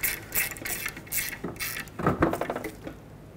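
Bolts being snugged down with a hand ratchet on a flat exhaust manifold block-off plate with lock washers, 2003-2021 Chevrolet Express van; close, irregular clicking ratchet strokes and metallic rattles, fairly quiet, no talking.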